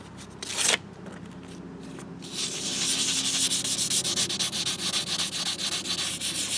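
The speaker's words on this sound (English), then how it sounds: "go after it with some sandpaper. Some emery paper, 600 grit," Sanding a damaged hydraulic cylinder rod with 600-grit emery paper and WD-40: steady, close, raspy back-and-forth rubbing that starts after a brief scratch and quiet pause, then continues in an even rhythm.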